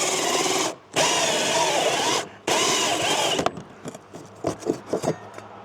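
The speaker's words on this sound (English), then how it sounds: "Go get the hole saw and drill the hole." A power drill with a hole saw runs in two long, steady bursts with brief pauses, then stops, followed by scattered scraping and knocking as wood debris is cleared.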